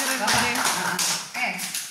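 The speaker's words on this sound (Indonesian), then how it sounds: "Tepuk tangan dulu dong untuk Pak De" An audience at a teachers' training session applauds Pak De with steady, dense clapping that fills the room, while a presenter keeps talking over it.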